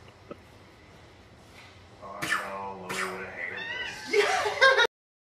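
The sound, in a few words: cat meowing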